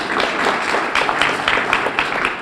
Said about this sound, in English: give a round of applause for Baycoast Bank